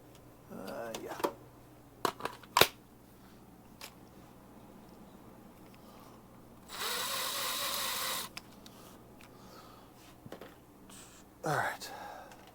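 A power drill spins up for one steady burst of about two seconds, with scattered clicks and handling noises and a soft whisper around it.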